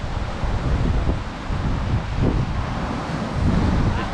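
A bitter north-easterly wind buffets the microphone on the Cardiff foreshore while the tide rushes through, a loud continuous roar of gusts over rushing water.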